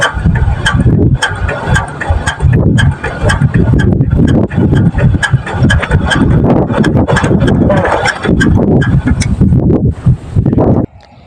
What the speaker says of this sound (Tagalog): iniisip ko na sana'y makibagay naman itong makina na to at mapaandar ko agad